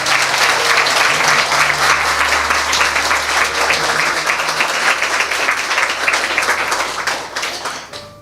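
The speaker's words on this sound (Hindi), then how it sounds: "यीशु के लिए जोरदार ताली बजाएं।" Loud, sustained applause fills a church service as a congregation claps for Jesus, dense and steady for about seven seconds before tapering off at the end.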